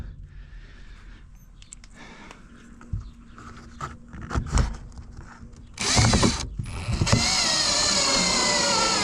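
A power drill drives three screws back in during a truck speaker replacement: a brief whirring burst, then a steadier whine lasting a few seconds, close by after quieter handling noises.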